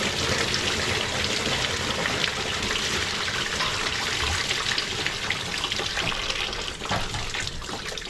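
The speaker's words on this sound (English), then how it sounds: "Now that we've got the radiator draining" Coolant drains from the lower radiator hose of a pickup truck, a steady, loud splashing gush of liquid pouring continuously close by, with no talking.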